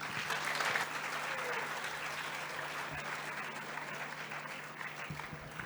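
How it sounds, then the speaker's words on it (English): Steady round of applause from an audience at an inter-college science exhibition prize distribution, with even, continuous clapping that is fairly distant and soft, with no talking over it. "Can we hear a huge round of applause for them?"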